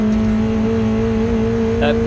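Roadsport race cars at Snetterton circuit in England make a steady, loud engine drone with strong tonal harmonics, and a brief higher whine near the end.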